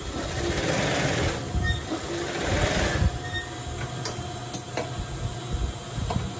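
A sewing machine stitches a T-shirt, whirring in close bursts that stop and start, with a few sharp clicks between runs.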